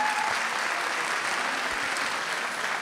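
Audience applause at an international students' graduation ceremony as the Faculty of Dentistry dean is welcomed: sustained, even clapping from a large crowd filling the hall throughout.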